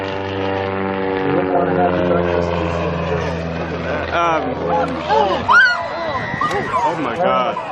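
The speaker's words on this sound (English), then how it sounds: "There goes the airplane." Propeller airplane flying past in a steady harmonic drone that fades, then turns into shouting voices and crowd commotion as it passes.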